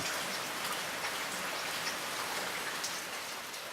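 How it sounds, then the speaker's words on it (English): Steady rain pattering on surfaces on a morning in Peru, near the Tambo River, a constant even hiss of drops with no voices and no breaks. "We woke up to a rainy morning"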